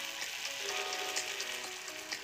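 Tomatoes frying in oil in a covered pan for an instant tomato pickle, giving a steady, close sizzle with small crackling pops throughout and no voices.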